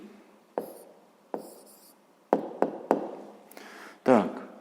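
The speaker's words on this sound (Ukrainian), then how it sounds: "записуємо відповідь" Pen writing down a math answer on paper: a few separate scratchy strokes and taps with quiet gaps between them, close and clear.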